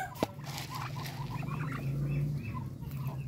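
A flock of darag native chickens feeding on cracked corn outdoors, soft overlapping clucks and low murmuring calls over a steady background hum, moderately close.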